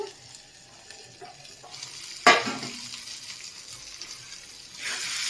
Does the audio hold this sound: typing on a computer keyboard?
no